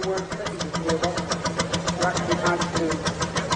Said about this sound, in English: just listen to that wonderful hit and miss sound as the steerer winds open the speed wheel.